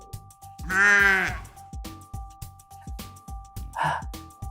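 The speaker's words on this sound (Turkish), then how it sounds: "ve bir kuzu" A single drawn-out, quavering lamb bleat rises clearly over a steady rhythmic mechanical ticking, followed by a shorter, fainter bleat near the end.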